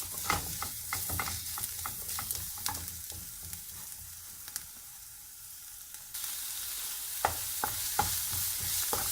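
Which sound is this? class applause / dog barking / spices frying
spices frying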